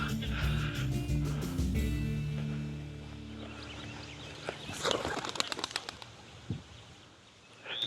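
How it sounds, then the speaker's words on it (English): A tossed pigeon flaps its wings in a burst of rapid close beats midway through, after a stretch of low outdoor rumble, ending with a brief thump in a quiet field setting during pointing dog training. "I'm gonna toss this pigeon,"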